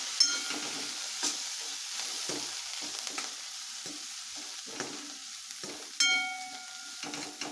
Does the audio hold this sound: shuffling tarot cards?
no